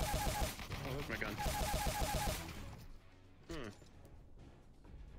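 Bursts of rapid automatic gunfire from the player's own weapon in Call of Duty, dense and loud for about two and a half seconds, then dropping away to quieter game noise with a brief later crack.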